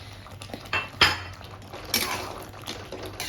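Soaked paneer cubes dropped into a pan of cooked spinach, giving a few soft clinks and knocks of utensil against cookware, with one sharper clatter near the middle and a brief wet splash afterward, close and moderately quiet.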